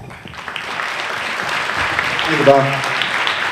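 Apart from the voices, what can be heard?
dinner audience applause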